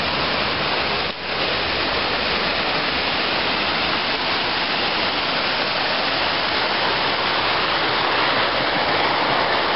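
Water rushes out of a mostly sealed abandoned mine opening, a loud, constant roar of discharge heard close and unbroken with no voices.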